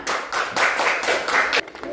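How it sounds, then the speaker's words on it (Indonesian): Students in a classroom clap for the winning group, a short burst of fairly loud, dense clapping with a few stronger claps standing out. "Ya, pemenangnya kelompok 2 ya, tepuk tangan."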